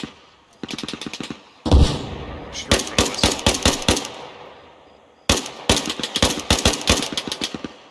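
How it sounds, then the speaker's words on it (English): Gunfire in the military shooter game Arma Reforger, rapid bursts of automatic rifle shots in several volleys separated by short pauses, sharp and fairly loud rather than faint. "You can start to hear their gunfire."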